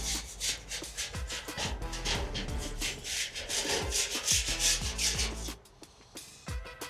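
A Grillaholics bristle-free grill brush scrubbing across metal grill grates, rapid rhythmic back-and-forth rasping strokes close up that stop briefly near the end before a few more scrubs.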